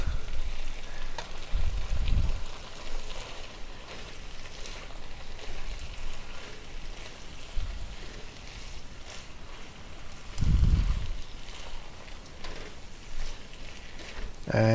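South Indian mixed vegetables with cilantro sizzle and crackle in a pan as they are stir-fried, a steady close frying hiss broken by a few louder stirring bursts.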